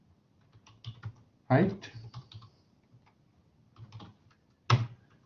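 Keys on a computer keyboard tapped out in a few quick bursts as a command is entered in Stata statistics software, with brief speech in between.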